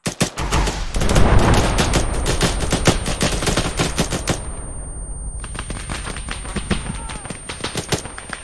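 Gunfire in the military shooter game Arma 3, rapid automatic bursts crackling almost continuously, loud and close, with a brief lull midway before another volley; voices come through faintly underneath.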